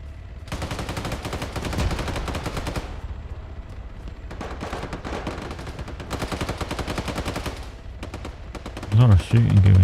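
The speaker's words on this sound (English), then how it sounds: "A lot of shooting going on." Rapid automatic gunfire in Arma 3 crackles in long dense bursts with brief pauses between volleys, fairly loud and continuous, followed by a couple of heavier low thumps near the end.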